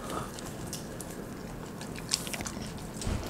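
A dog chews kimchi up close, with soft wet crunching and biting sounds repeating steadily, a few sharper bites standing out near the end.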